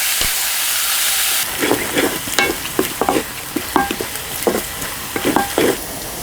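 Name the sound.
ivy gourd pieces frying and being stirred in pan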